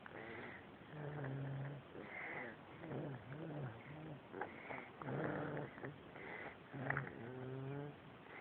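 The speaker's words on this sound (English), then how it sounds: "he's already snoring even louder than I snore." A young boy snoring in his sleep, a series of close, rhythmic rasping breaths with nasal rattles on each inhale, repeating roughly every second or so at moderate volume.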